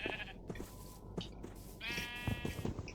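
Minecraft sheep in a survival game let out a few wavering bleats, fairly close, spread across a short stretch with light background noise.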